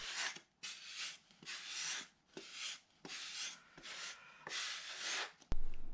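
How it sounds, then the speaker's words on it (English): A skim coat on a foam rudder mold plug being hand sanded in close, rhythmic back-and-forth strokes, about eight rasping passes with brief pauses between, ending in a sharp knock. "Well, this time sanding is a whole lot easier."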